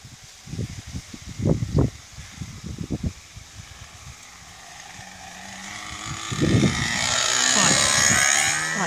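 An Alpha Trainer model airplane goes around after an aborted landing. Its small engine whines up and swells louder as it passes near, following several bursts of talk, with some wind noise.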